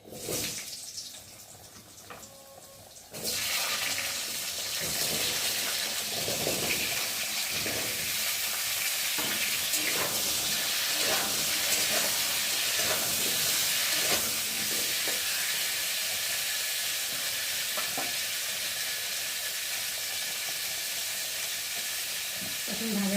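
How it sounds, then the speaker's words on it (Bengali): Cut potatoes frying in oil in a pan, starting with a quiet moment before a loud, steady close-up sizzle and hiss that continues with occasional stirring scrapes. "এখন কেটে রাখা আলুগুলোকে দিয়ে একটু ভালো করে ভেজে নেব"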